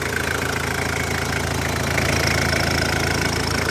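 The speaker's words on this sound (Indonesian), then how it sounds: "Ini di sini mesin lagi nyala." A Mitsubishi L200 Strada pickup engine idles steadily close by, a loud continuous rumble with a faint ticking knock and no talking.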